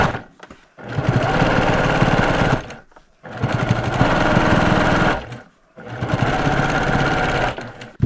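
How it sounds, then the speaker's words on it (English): A sewing machine stitches scrappy quilt blocks together in three long, steady bursts of loud, rapid needle chatter, each separated by a brief pause, with the motor close and no voices. "all I need to do is just sew on the other side"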